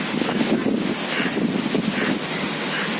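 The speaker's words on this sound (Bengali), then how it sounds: "বাতাসের কি শব্দ" Strong gusty wind from Cyclone Remal roars steadily past the microphone in Dhaka, a dense rushing noise with buffeting swells and no voices.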